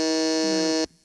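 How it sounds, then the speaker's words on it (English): A game-show style buzzer on a live investing show gives one loud, steady electronic buzz lasting under a second, then cuts off abruptly into near silence. "Wait, I need the buzzer."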